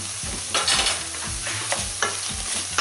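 Softened vegetables and garlic being stirred in a frying pan, rhythmic scraping strokes of a utensil over a constant sizzle.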